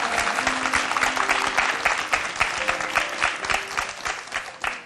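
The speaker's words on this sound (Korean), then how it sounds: "여러분, 큰 박수 좀 보내주세요." A TV studio audience applauds steadily and loudly, dense clapping filling the whole stretch without a break.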